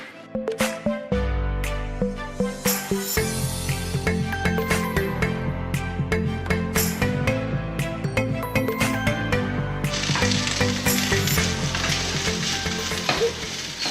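Eggs frying in a home kitchen pan for a Filipino breakfast, a steady dense sizzle with crackling pops and some clatter of cooking, continuous and fairly close.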